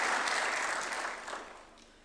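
Applause from an audience at a State House event in Nairobi, a dense wash of clapping that is moderately loud at first and fades over two seconds, with no speech over it.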